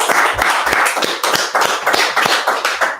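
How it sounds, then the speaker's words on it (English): A group at a law class in Fayetteville, North Carolina claps in a steady rhythmic beat, loud and close, with sharp regular hand strikes throughout. "clap it up"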